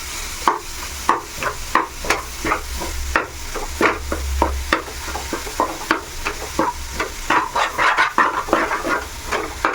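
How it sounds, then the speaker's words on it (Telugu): A spoon scrapes and stirs soya chunk (meal maker) keema in a pan in a steady rhythm of repeated clacks over a soft sizzle of frying, close by and with no talking. "బాగా కలుపుకోవాలి"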